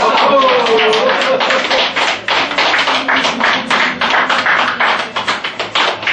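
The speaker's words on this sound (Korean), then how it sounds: "아, 우리 박수 다시." A renewed round of close group clapping at a high-school alumni hiking club meeting to elect its second president, brisk and even, lasting several seconds, with a voice speaking briefly at the start and chatter mixed in.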